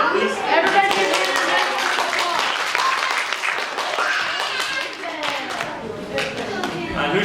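A children's Vacation Bible School audience claps loudly and continuously throughout, a dense roomful of applause with voices mixed in.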